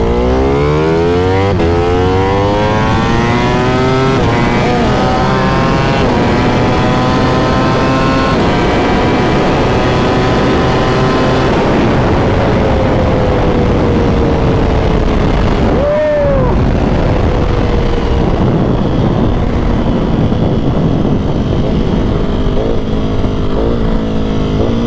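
A 2023 Ducati Panigale V4R ridden on the road roars loudly and continuously, its engine pitch climbing repeatedly through the gears with sustained high-revving wails.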